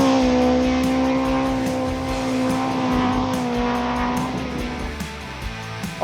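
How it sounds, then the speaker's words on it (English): An off-road race car with a 2-litre naturally aspirated engine runs during the Gundy 500 race in Australia. It gives a sustained, droning engine note that holds steady, then wavers and eases off toward the end. "the different noise you hear out of that car, it's actually a 2-litre naturally aspirated motor"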